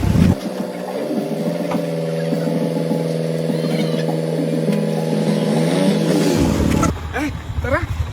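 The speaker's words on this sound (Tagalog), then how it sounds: "Mag-motor na lang ako" A motorcycle engine running steadily and fairly close, a continuous drone with slight changes in pitch, which cuts out near the end as a voice speaks.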